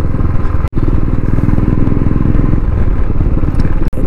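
A motorcycle engine runs steadily and loud, close up, as the bike rides through a traffic jam on the Mumbai–Goa highway near bridge works, with a droning mid-pitched hum broken by two brief dropouts.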